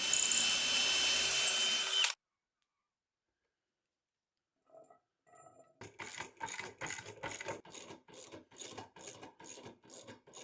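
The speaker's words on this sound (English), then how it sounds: "drilling all the way through with the 3/8 inch bit" A drill bores holes with a 3/8 inch bit while a workbench is built in a small shop, a dense whine at first, then silence, then a run of rhythmic, evenly spaced grinding bursts.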